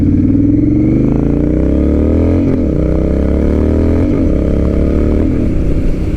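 A Honda Rebel 1100 fitted with a TBR exhaust revs up steadily, its deep, rumbling engine note climbing in pitch over several seconds, dipping briefly twice between pulls, loud and close with no talk.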